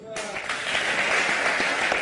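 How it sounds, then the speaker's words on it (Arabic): Applause from an audience swells into a dense, steady clatter of clapping for a couple of seconds during an Eid celebration, with voices faintly audible underneath. "تصفيق على العيد."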